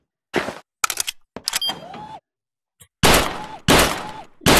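Gunshots ring out in a VR shooting game at a gun club range, several loud, close blasts in separate bursts with silent gaps, the last few heavy and drawn out with a ringing tail.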